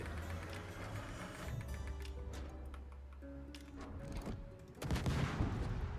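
Naval gunfire from a World of Warships battle against a Scharnhorst battleship: repeated sharp bangs and mechanical ticks over a steady low game rumble, with a louder burst near the end.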